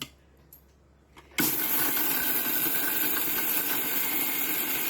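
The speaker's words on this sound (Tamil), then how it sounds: "இது மாதிரி நல்லா மிக்ஸி ஜாரில் போட்டு நல்லா கிரைண்ட் பண்ணிங்கன்னா" A loud, steady motorized whirring starts abruptly after a second of quiet and runs continuously, a kitchen mixer grinder jar grinding urad dal chutney at full speed.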